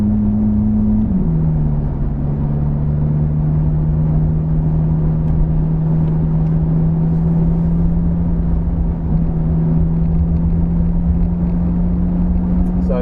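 Ferrari F430 engine pulling steadily on a wet Silverstone circuit after an upshift, a loud sustained drone with a brief pitch drop at the gear change then a slowly rising note, rumbling continuously throughout.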